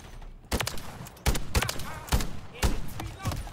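Video game gunfire comes in short, heavy bursts of shots with thudding impacts, loud and close, separated by brief pauses, while a player speaks over parts of it.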